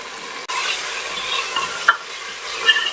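Cinnamon, black peppercorns, cloves, black cardamom, mace and cumin hit hot oil after a brief hush, then sizzle loudly and continuously up close, with a couple of small pops.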